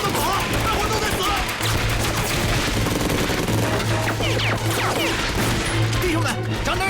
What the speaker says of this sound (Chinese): 弟兄们，开枪！ 打死他们！